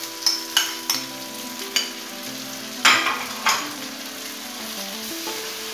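Green chillies, poppy seeds and tamarind fry in oil for a green chili pickle, with a soft steady sizzle under several sharp clinks and taps of a spoon against the pan, close by and without talk.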